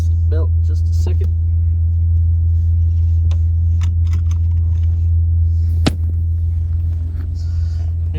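Steady, loud low engine rumble from a car on the move, filling the whole stretch with a constant drone, occasional small clicks and knocks over it, and one sharp bang near the end.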